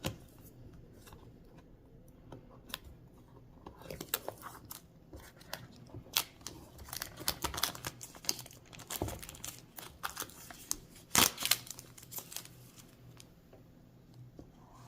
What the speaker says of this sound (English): I could start to take the plastic wrap off of the packaging here.